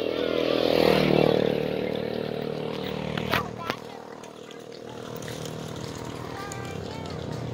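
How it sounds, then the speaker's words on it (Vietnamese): A motorbike passes along a street, its engine drone loud at first and then fading, with a couple of sharp clicks midway and a steady background hum as people talk nearby. "Xe máy đấy."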